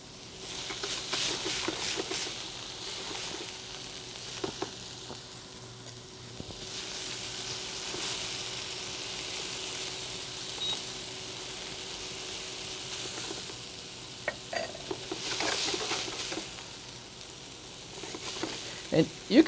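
Potatoes browning in a frying pan as part of a quail dish, a steady soft sizzle and fry running throughout with occasional stirring scrapes and clinks, moderately quiet and close, no talking.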